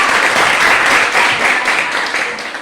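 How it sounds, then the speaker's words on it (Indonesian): Applause for a presenting group at a classroom discussion session, a burst of many hands clapping close and loud that gradually fades over a few seconds. "Berikan aplaus dulu untuk kelompok 2."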